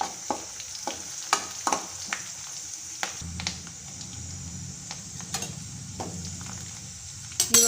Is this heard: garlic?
yes